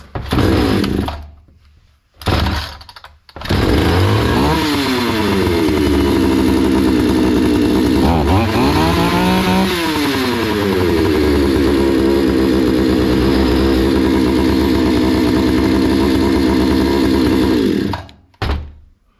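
A Hyundai 650 chainsaw engine sputters and catches after a couple of short pulls, then runs loud and close, rising and falling through several revs before cutting out near the end.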